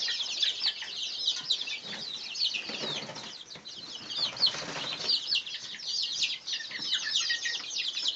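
A flock of chickens clucks continuously close by in a coop, with some wing flapping mixed into the steady chatter and no talking.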